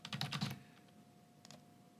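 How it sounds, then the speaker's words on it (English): Quick bursts of keystrokes on a computer keyboard, a rapid cluster of clicks up close followed by a pause and a few lighter taps, quiet with no talking. "When I try to type, I'm typing now, hear it"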